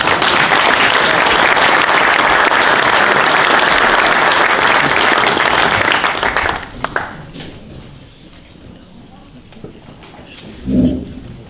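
A hall full of people applauds in a loud, dense wash of clapping that holds for about six seconds, then stops abruptly, leaving near quiet with a few stray sounds.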